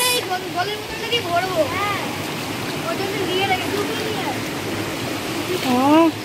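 Feet wade through a cold, shallow rocky stream in Ghatshila, with steady rushing and splashing water throughout while several voices talk and exclaim close by.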